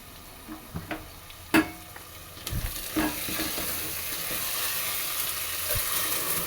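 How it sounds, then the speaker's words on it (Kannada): Washed rice is tipped into frying masala in a pan and stirred, bringing a few sharp knocks and clatters at first, then a steady close sizzle with scraping underneath. "ಇವಾಗ ಇದಕ್ಕೆ ತೊಳೆದಿಟ್ಟಿರೋ ಅಕ್ಕಿ ಹಾಕ್ಕೊತಾ ಇದ್ದೀನಿ."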